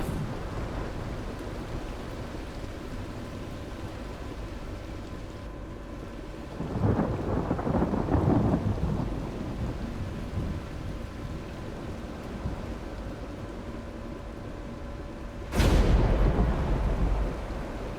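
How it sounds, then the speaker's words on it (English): Rain patters steadily on a ship deck in the game The Last Caretaker, with two sharp thunder cracks rolling in partway through and near the end, alone without talk. "It's raining on deck."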